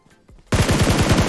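A fast automatic burst emptying a magazine in PUBG Mobile starts suddenly after a few quieter shots, then runs as a loud, steady rattle of rapid close gunfire.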